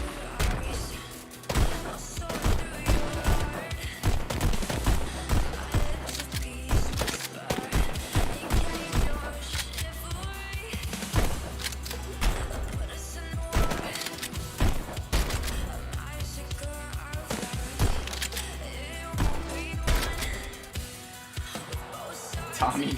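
Tommy gun fire in the VR rhythm shooter Pistol Whip, rapid bursts of automatic gunfire and heavy shots over a pounding music track, loud and nearly continuous.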